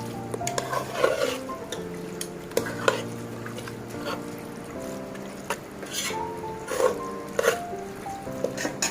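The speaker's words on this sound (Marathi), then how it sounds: "आता व्यवस्थित परतून घेऊया आपण." Soft scraping and clinking of a spoon stirring spices sautéing in a pan, with intermittent taps against the metal and a faint sizzle underneath.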